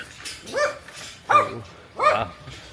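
A neighbour's dog in rural Vietnam lets out three short, sharp barks at regular intervals, fairly close and moderately loud, with no talk over them.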